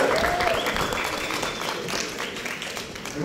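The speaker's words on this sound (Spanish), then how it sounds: "Fuerte aplauso para Erika." Studio audience applause during a televised cast presentation for the series Fugitivas, a dense, continuous clapping that stays strong throughout with a faint voice and tone mixed underneath.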